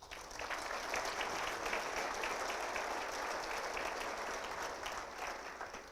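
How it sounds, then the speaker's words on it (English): A crowd applauds elected officials at a city's State of the City Address, with dense, steady clapping that holds evenly for the full six seconds without letting up. "we should give them a round of applause"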